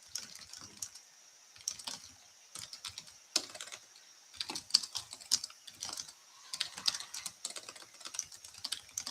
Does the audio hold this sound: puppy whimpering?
no